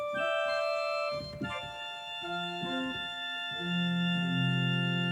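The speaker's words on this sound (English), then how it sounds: "An organ has more of a sound like this." Sustained organ-like keyboard tones hold steady while a few lower notes are played beneath, ending on a fuller chord.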